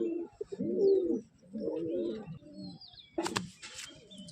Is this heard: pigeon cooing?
yes